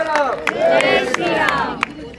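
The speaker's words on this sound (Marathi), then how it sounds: "टाळ्या इतक्या जोरात वाजवा सगळ्यांनी हात वर केला" A crowd at a political election rally roars and shouts together, with scattered claps in a loud, dense, sustained burst of massed voices.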